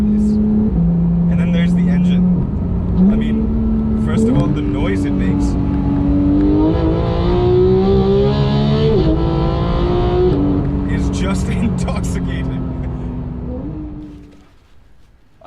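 A Porsche 911 GT3 engine revs loudly and close up, its pitch climbing in repeated surges and dropping with each gear change, then fading sharply near the end.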